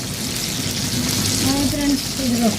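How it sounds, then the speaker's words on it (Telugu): Ivy gourds fry in hot oil with a loud, continuous sizzle that stays steady throughout, while a voice murmurs faintly in the background. "ముందుగా వేపుతుంది దొండకాయల్ని"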